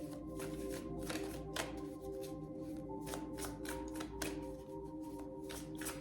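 Cards being shuffled for a tarot-style reading, close and quiet, in a series of crisp riffling bursts and soft taps repeating irregularly with no talking.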